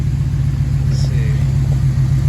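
A 1976 Jeep CJ5 engine idles loudly and steadily close by while the wheels are steered, with a low constant rumble and a faint power steering whine partway through, and someone talks briefly.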